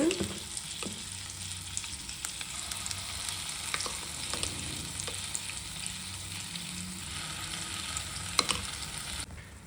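Capsicum curry paste fries in a pan with a continuous dense sizzle and crackle, steady throughout with occasional small pops and stirring scrapes.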